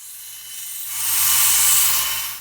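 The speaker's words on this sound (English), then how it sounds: "I'm going to grind off the pins." A sander grinding steel pins off a repaired plastic Hyundai Sonata door handle: a high, rising whine that swells loud after a second and holds steadily, with a low motor hum underneath, then cuts off.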